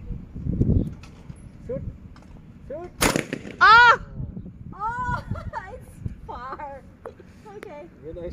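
A shotgun fires at an outdoor clay shooting session in Dubai, giving one sharp, loud blast. Talking and excited exclamations from people nearby fill the moments around it.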